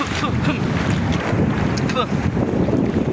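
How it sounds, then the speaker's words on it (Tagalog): Sea waves at Bolasi beach in San Fabian, Pangasinan roar as a constant loud wash, with heavy wind buffeting the microphone throughout. "lakas na ng alon niya no?"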